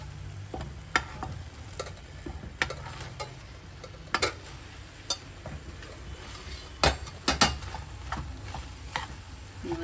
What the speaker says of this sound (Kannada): ಇವಾಗ ಇದಕ್ಕೆ ಅನ್ನ ಹಾಕಿ ಕಲಿಸ್ತಾ ಇದ್ದೀನಿ